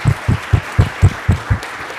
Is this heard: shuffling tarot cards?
no